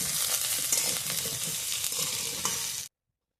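Carrots frying in a pan with vegetables for khichuri, a steady dense sizzle with light stirring scrapes, close and continuous before cutting off abruptly.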